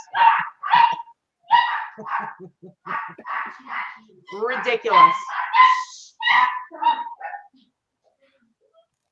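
Excited pet dogs bark and yip at an arriving visitor in a home, a rapid, loud, close run of high barks and whimpers that stops abruptly near the end, with a brief spoken word among them.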